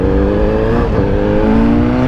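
Yamaha XJ6 motorcycle on a modified exhaust, revving loudly and continuously at close range with a steady, rising engine drone and no talk over it.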